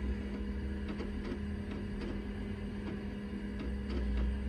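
A 1983 Apple Lisa Twiggy floppy drive, the noisier of two, runs with a steady mechanical hum and faint rhythmic clicks of the head, close and constant.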